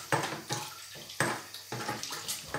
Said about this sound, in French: Un petit filet d'eau. On se lave bien les mains.